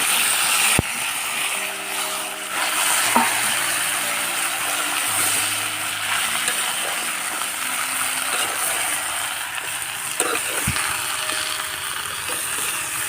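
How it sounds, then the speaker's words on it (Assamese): Potatoes, cauliflower and other vegetables fry in a pan outdoors in hot sun, giving a constant, moderately loud hiss of oil with a few sharp utensil clicks and faint mechanical tones. "তো মই ডাইৰেক্ট ঢালি দিম চব্জিখিনি।"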